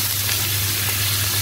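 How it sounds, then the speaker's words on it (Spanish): Chopped tomato is added to onion frying in a pot while soup is cooked, giving a steady, loud, close sizzle and hiss that carries on without break and with no talking. "ya le hemos echado la cebolla al tarro y ahora echamos el tomate"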